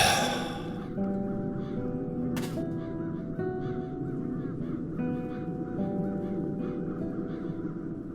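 Crows caw repeatedly in The Dark Eye: Chains of Satinav adventure game, harsh calls over a steady ambient drone, with one sharp burst midway.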